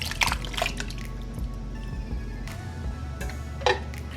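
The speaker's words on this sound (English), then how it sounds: "Now we're getting ready to go in with our diced tomatoes." Diced tomatoes go into a pot of taco soup on low heat, a few wet plops and splashes spaced irregularly over a quiet simmering background, close by.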